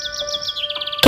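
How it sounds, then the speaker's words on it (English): A canary chirps in a rapid series of bright, high tweets over a sustained tonal background, ending in a sudden louder burst. "Canary,"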